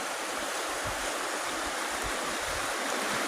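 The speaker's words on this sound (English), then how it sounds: "We're about to cross over the creek to the other side." A creek on a hiking trail at Ricketts Glen State Park runs in a steady, close rush of broadband water noise, continuous and even throughout with no talk.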